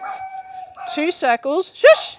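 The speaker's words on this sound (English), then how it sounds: "That's my dog's barking in the background." A dog barks and yips in the background in several short bursts during a home rebounding workout, while someone talks and gives exercise cues over it.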